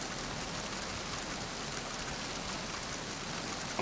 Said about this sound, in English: Ooh, that sounds like it's just downpouring outside.